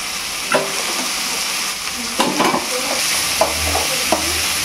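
Spatula stirring onions or aromatics in a frying pan as ground turmeric goes in, with a steady loud sizzle and several sharp scraping and clinking strokes against the pan; no voices.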